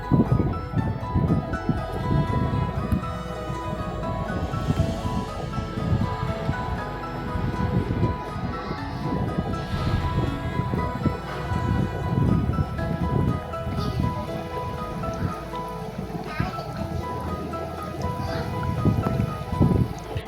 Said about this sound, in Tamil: எண்ணெய் சூடானதுக்கப்புறம் நம்ம கட் பண்ணி வச்சுருக்க வாழைக்காயை இந்த மாவில் டிப் பண்ணி எடுத்து போட்டு பொரித்து எடுக்கலாம்